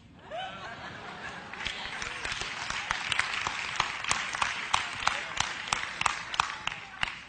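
Scattered clapping rises from a sermon audience, individual sharp claps growing more frequent and rhythmic over several seconds amid light laughter and murmuring voices.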